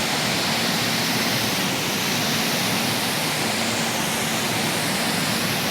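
A spray gun lays clear coat inside a paint booth, making a loud, steady broadband hiss that runs without a break from start to finish.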